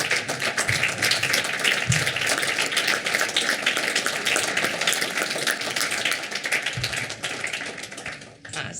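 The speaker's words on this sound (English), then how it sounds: "let's give them a round of applause." Sustained applause from an audience honoring student athletes at a university athletics hall of fame induction ceremony, dense steady clapping throughout with a few louder claps, fading slightly at the end.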